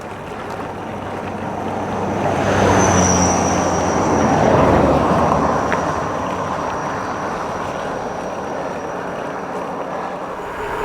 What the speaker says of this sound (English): I can hear a car coming.